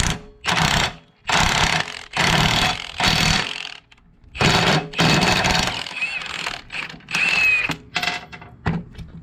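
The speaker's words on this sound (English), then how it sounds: "put your lug nut on, get it tight, and then watch how this thing just takes it in." A Lisle wheel stud installer pulls a wheel stud into the hub as a tool drives the lug nut in several loud, close bursts of rapid ratcheting whir. Short pauses separate the bursts, and small metallic squeaks come in toward the end.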